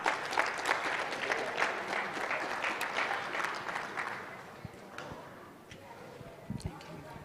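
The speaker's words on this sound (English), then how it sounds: "A round of applause for Madam." Applause from a forum audience, a dense patter of clapping that gradually thins out and fades, with a few scattered claps lingering at the end.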